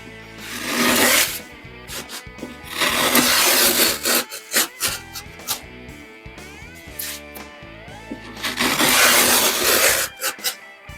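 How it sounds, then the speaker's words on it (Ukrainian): A hand chamfer plane shaves the edge of drywall, giving rasping, scraping strokes in loud bursts. Two long passes are separated by a series of shorter, choppier scrapes. "цей рубанок нам більше потрібен для того, щоб зробити кромочку"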